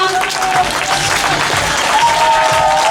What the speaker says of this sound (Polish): I wielkie brawa.